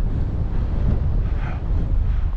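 Strong wind roars continuously across the microphone outdoors during a Tamiya TT02 RC car speed run, a loud broadband rush with gusty fluctuations and no talk.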